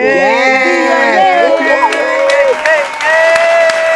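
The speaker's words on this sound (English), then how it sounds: "let's give it a round of applause" Applause and cheering from a small crowd for a podcast guest, loud and continuous with whoops over the clapping, under strong tonal voices or music-like harmonic lines.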